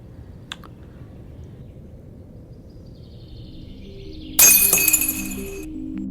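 A glass bottle shatters suddenly after a few quiet seconds, a bright burst of breaking glass followed by tinkling shards settling, close and loud against faint room noise.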